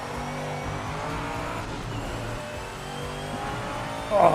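A race car engine in the Project Motor Racing video game holds a steady high drone, then revs sharply louder at the very end, with no voices.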